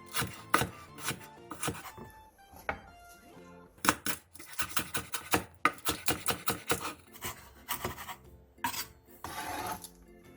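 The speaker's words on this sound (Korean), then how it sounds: "청양고추 2개, 홍고추 1개, 대파 1개를 어슷썰기 해주세요." A knife slices Cheongyang chillies, red chillies and green onion on a cutting board in brisk bursts of sharp, close chops, separated by short pauses, with a few scraping strokes in between.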